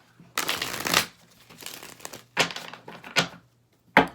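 Tarot cards being shuffled in several bursts, a long riffle followed by shorter crisp shuffles with brief pauses between, close and fairly loud.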